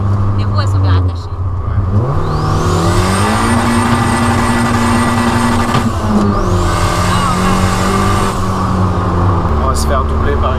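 A Volkswagen Golf 2 GTI 16V Turbo drives hard, its engine loud and close as it climbs through two long pulls, with people talking over the noise.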